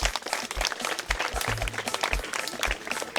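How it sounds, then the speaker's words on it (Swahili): An audience claps together in a lively burst, sharp overlapping hand claps mixed with a few low thumps and crowd murmur at moderate loudness. "Hebu piga tena makofi."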